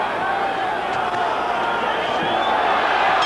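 Crowd at a boxing arena during the Julio Cesar Chavez vs Kostya Tszyu fight: a dense, steady roar of many voices with murmuring and scattered shouts, filling the space continuously.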